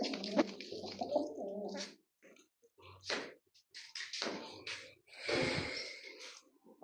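Pigeons coo in short, broken bursts at close range, separated by pauses, with someone talking over and between the calls.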